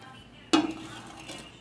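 A metal cooking pan is set down on a stove with a single sharp clank that rings briefly and fades, close and fairly loud against quiet kitchen background.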